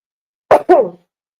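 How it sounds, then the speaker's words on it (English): A single close sneeze, a quick two-part burst that ends sharply, with silence before and after. "And I'm going to sneeze."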